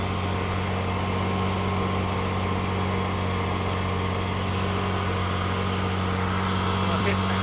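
The engine of a Nissan GQ Patrol idles steadily with a new radiator fitted, its air being bled out. A low, even drone continues unbroken throughout.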